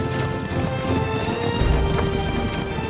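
Pharaoh's horses and chariots give chase, hooves clip-clopping in a quick, steady patter with rumbling movement underneath, fairly close and unaccompanied by speech.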